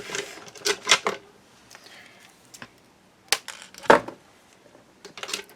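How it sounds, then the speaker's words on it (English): Snips of wire being cut during a papercraft flower project, heard as a few sharp, separate clicks spaced over several seconds, fairly close and moderately loud with quiet pauses between. "you'll also need a piece of wire, and cut that off."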